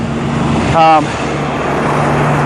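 A loud truck passes close by on a roadway, with a short burst of engine and tonal rumble surging for under a second over steady traffic noise while someone talks.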